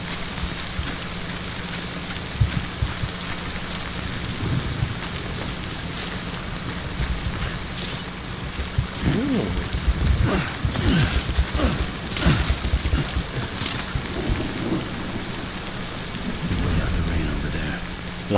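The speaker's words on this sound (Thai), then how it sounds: "รอจนกว่าฝนได้หยุดที่นั่นแล้วกัน" Steady rain falls in the video game Death Stranding, a continuous wash of drops on surfaces broken by several rolling rumbles of thunder that swell and fade across the stretch.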